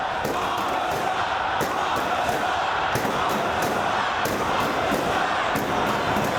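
Chicago wrestling crowd at a Ring of Honor event, a loud continuous roar of cheering and shouting with rhythmic thumps repeating every second or so, likely stomping or ring impacts, filling the whole stretch.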